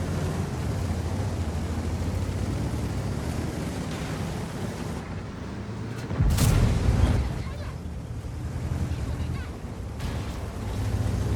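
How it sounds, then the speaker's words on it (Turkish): A T57 tank fires a high-explosive shell in World of Tanks, a single heavy boom midway through over a constant wind-like background rumble. "Patlayıcı mermi atan bir T57."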